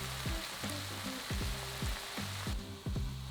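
Turkey bolognese sauce with tomato puree in a pan, a close sizzling bubble with a regular series of low thumping pops roughly every half second, no talking.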